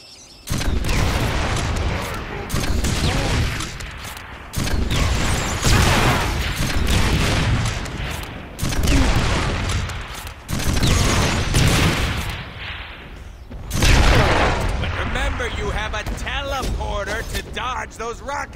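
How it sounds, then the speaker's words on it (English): Rocket attacks and explosions in the Deadpool video game: repeated heavy blasts and bursts of fire come in loud waves with short lulls, while a voice talks over the action. "Those rocket attacks."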